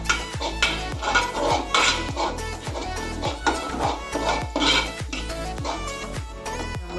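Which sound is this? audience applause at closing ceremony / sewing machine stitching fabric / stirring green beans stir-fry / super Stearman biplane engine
stirring green beans stir-fry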